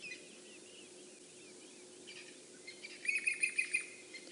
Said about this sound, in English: It sounds like we've either got a Jacobin or a Levalence cuckoo flying around here.